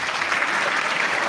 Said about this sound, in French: Je voudrais que vous applaudissiez très fort